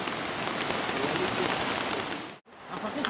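Rain pattering steadily on a tarp over a bushcraft camp in the woods, a dense close hiss of drops with one brief dropout near the end.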